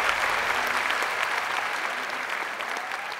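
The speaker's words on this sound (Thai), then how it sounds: "ปรบมือให้กับ2คนด้วย" Loud, dense applause from a television studio audience, steady clapping that fades slightly toward the end with no talk over it.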